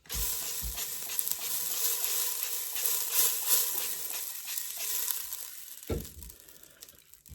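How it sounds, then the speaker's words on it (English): Chilies and curry leaves frying in hot oil for a Kerala-style chicken molee, a bright steady sizzle close by that thins out near the end with a couple of knocks of the utensil. "So the chilies and the curry leaves have been cooking for a few minutes."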